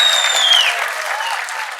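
Audience clapping at a film title teaser launch event for Pinaka, a steady dense applause with a faint tone or voice running through, filling the whole moment without clear speech.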